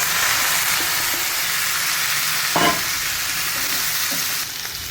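Chicken frying in a pan with ginger garlic paste for biryani gives a loud, steady sizzle that hisses evenly throughout, with a brief stir or clatter midway and no voices.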